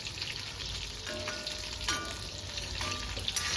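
Brinjal, stuffed eggplant pieces, fries in oil with lentils, giving a steady close sizzle with faint stirring scrapes throughout and no voices.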